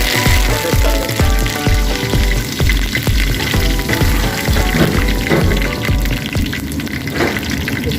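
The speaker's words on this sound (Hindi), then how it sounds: "अब इसमें मैं ऐड करता हूँ करी पत्ता और ड्राई चिल्ली।" Curry leaves and dried chillies sizzle and crackle vigorously in hot refined oil while cooking pepper chicken masala, a loud, steady frying hiss with dense popping throughout and no voices.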